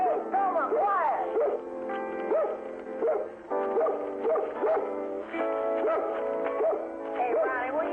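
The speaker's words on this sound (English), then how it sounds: "Hey, Ronnie, will you keep that dog quiet?" A dog yips, whimpers and barks in short, agitated bursts throughout, fairly close, with a person's voice mixed in among the calls.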